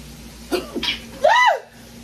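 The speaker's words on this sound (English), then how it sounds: "Well, we can't do sneezing all over the food." A single sharp sneeze at close range in a kitchen while cooking chicken Alfredo, tilapia and garlic bread, brief and fairly loud against a quiet background.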